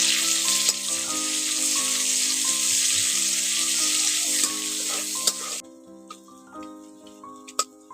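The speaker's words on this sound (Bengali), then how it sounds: "পেঁয়াজটাকে একটু নাড়াচাড়া করে ভালো করে ভেজে নেব" Onions crackle and sizzle loudly in hot oil while a spoon stirs them; the frying drops away near the end, leaving scattered scrapes and taps over background music.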